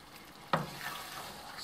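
Grammelknödel, dumplings filled with pork cracklings, boiling in a pot of water. A sudden splash-like onset gives way to a steady, hissing bubble that continues to the end.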